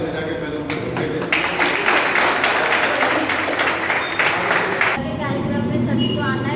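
Clapping applause from a gathered group at a local meeting, a few seconds of brisk, close hand claps that stop abruptly, followed by a voice speaking with room noise behind it.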